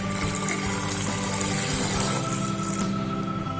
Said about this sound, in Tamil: இப்போ இதுக்கு நம்ம தண்ணி ஊற்றிக்கலாம்.